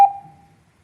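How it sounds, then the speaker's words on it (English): A single sharp electronic beep from a speaking-time timer at a Clark County Commission public meeting, clear and close, decaying quickly into silence. "there a reason for that beep?"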